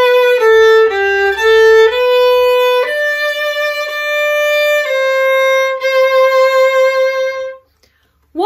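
A violin plays the opening two bars of the Welsh traditional tune 'The New Harp', a clear solo line of sustained bowed notes stepping up and down, close and loud, ending in a short pause and then a voice.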